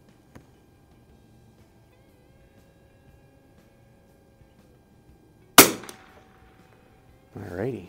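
H&R M-12 .22 single-shot target rifle with a Fecker 16x scope fired at a 50-yard range: one sharp, loud crack rings out after a long quiet stretch, then a short rustling handling noise follows.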